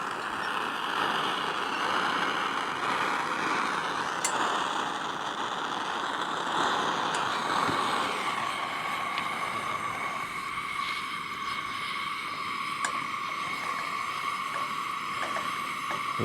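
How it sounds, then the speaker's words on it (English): A generator runs steadily at a campsite beside a VW bus, giving a continuous, even engine drone at moderate distance throughout, with small clinks and knocks now and then. "I'll hit the generator a little bit."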